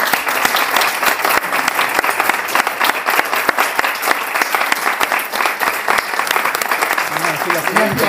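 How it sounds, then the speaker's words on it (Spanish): An audience at a post-lecture debate applauds, dense and steady clapping that stays loud throughout, with voices faintly mixed in toward the end. "pues yo solicito un aplauso"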